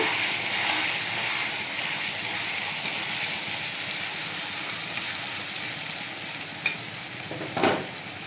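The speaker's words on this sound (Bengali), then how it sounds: "দিয়ে দেবো নুন, আর দিয়ে দেবো একটু হলুদ। এটাকে ভালোভাবে নাড়া দিয়ে নেব।" Potatoes with salt and turmeric sizzle steadily in a frying pan and are stirred, with a continuous hiss and a couple of sharper scrapes near the end. The sound is close and there are no voices.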